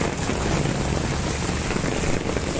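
Heavy monsoon rain pours down on a waterlogged street in Viman Nagar, Pune, a dense, steady, close hiss that holds even for the whole stretch with no voices.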